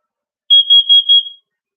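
A plugged-in detector gives four rapid, shrill, evenly spaced beeps, loud and close, in an otherwise silent room.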